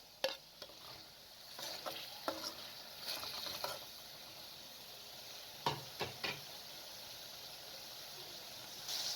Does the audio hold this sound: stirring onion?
yes